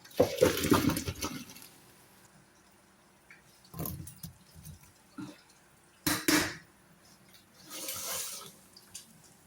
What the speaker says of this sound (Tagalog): Then, drain natin yung ating patatas.